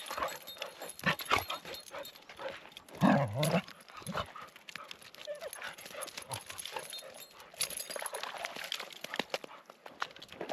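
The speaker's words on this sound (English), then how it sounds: "Got to show you this crazy dog." A revved-up dog on a forest hike near an old closed campground, making scattered yips and movement sounds, fairly close, amid rustling and outdoor noise.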